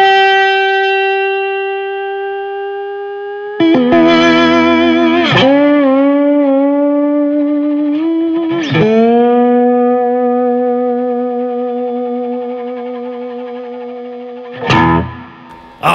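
An electric guitar through a compressor and EQ, with sustained single notes and chords ringing out long and smooth, each new pick attack followed by a slow, even decay, played alone without talking.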